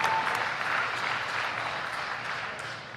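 Applause at a spring honors ceremony, a brief burst of crowd clapping that fades slowly as it dies away.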